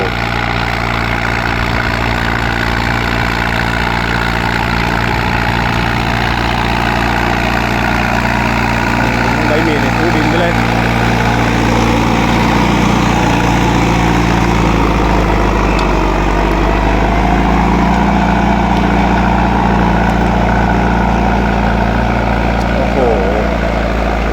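A loud non-turbo New Holland 6640 tractor engine, pulling a four-disc plow, runs steadily at close range, a deep continuous drone with a low rumble that shifts slightly in pitch partway through.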